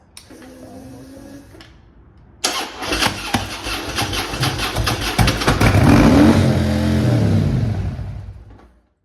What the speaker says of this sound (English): Now prepare yourself for this first startup